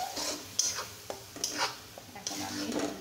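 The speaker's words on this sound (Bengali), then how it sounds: "এখন আমি সুন্দর করে মশলাটাকে কষিয়ে নেব ধীরে ধীরে" A blended paste of onion, garlic, ginger and cumin fries slowly in a pan for a spicy beef curry, with a soft sizzle under repeated scraping and knocking of a spoon as it is stirred.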